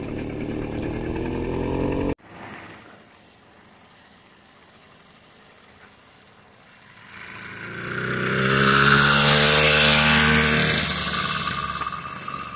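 Two-stroke engine on a 25:1 mix of Polaris synthetic oil and regular 87 octane gas, idling low after a sudden cut, then revving up loud and buzzing high before easing slightly.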